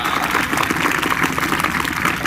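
A crowd of young schoolchildren claps together, a dense, steady wash of applause that holds evenly for the whole stretch.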